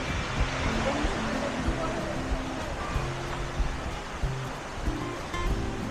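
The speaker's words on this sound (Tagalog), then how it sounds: "Ito ilog." A river flows near a camping spot in Tanay, Rizal, with a steady mid-level rush of water while people talk over it.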